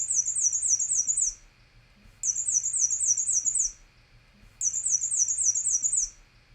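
Three bursts of high, rapidly repeated squeaky song like a turning bicycle wheel, from a black-and-white warbler, each about a second long and separated by short pauses, clear against quiet background.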